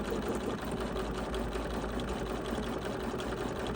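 A BERNINA 735 embroidery machine starting to stitch, giving a steady, fast mechanical whir and needle rattle that runs continuously and close, with no talking.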